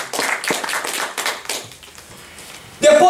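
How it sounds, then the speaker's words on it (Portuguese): Church congregation clapping together in a quick, uneven burst of hand claps during a worship service, the clapping thinning out after about two seconds before a short loud swell at the end. "Dá uma salva de palmas ao Senhor."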